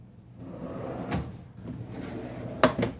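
Soft-close pull-out drawers in the kitchen of a 2022 Newmar King Aire 4533 motorhome slide with a quiet rumble. Two crisp knocks follow close together near the end.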